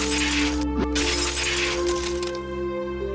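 Glass windows shatter one after another in a Higurashi visual novel sound effect, loud crashing breaks with a sharp crack near the start and a dense, sustained crunch of splintering glass over a steady low hum.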